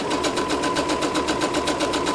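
A sewing machine stitching fabric for a scrunchie, a steady, fast, close mechanical whir with an even rapid pulse and no voices.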